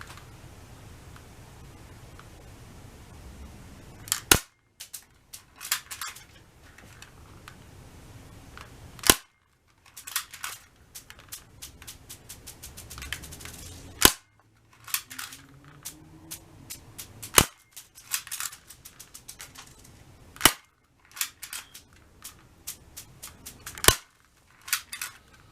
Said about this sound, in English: we're gonna start with the cheap BB gun